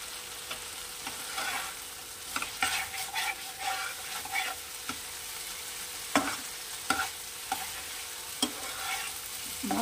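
Spice paste frying in oil for a Bengali Tangra fish curry with poppy seed, a steady close sizzle broken by repeated scraping stirs of a spoon against the pan.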